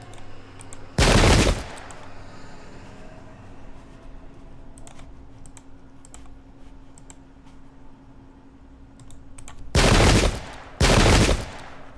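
Musket volleys in the video game Pike and Shot: one loud crackling burst near the start, then quiet battlefield ambience, then two more loud volley bursts close together near the end.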